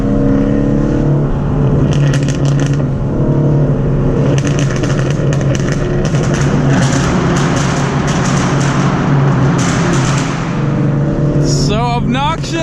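A 2019 Ford Mustang GT just past its 1,000-mile break-in drives loudly, its engine a constant heavy drone with a rising rev sweep near the end, close and dominating.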